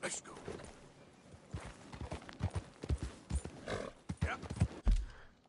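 Horse hooves clip-clopping in the video game Red Dead Redemption 2, a quick irregular run of soft thuds under someone talking over the game.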